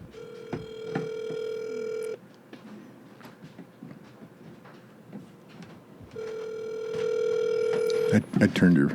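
A phone on speakerphone rings while calling, two long electronic ring tones separated by a quiet stretch of muffled room noise and faint voices, ending in a clatter.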